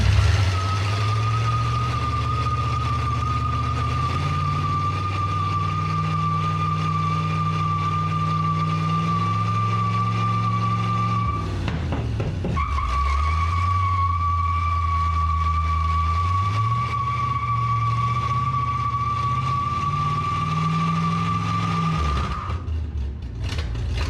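A 1963 International Harvester Loadstar truck's engine drones loudly and steadily, its pitch rising and falling in revs with a constant high whine, cutting out briefly midway before roaring on again.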